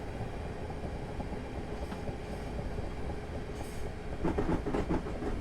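A train runs in the Train Sim Classic video game with a steady, moderately loud rumble and rhythmic wheel clatter, a few brighter rail clicks near the end.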